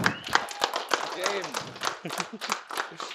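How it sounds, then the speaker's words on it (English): A crowd at a League of Legends esports event claps in scattered, uneven bursts while voices speak and cheer over the applause. "Let's give them a round of applause."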